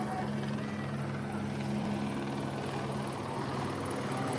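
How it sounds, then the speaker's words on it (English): A police helicopter over a downtown Los Angeles protest at the federal building, a continuous loud rotor thrum and engine drone filling the whole stretch with steady intensity, heard from below amid outdoor ambience. "so that's the helicopter right there we just heard."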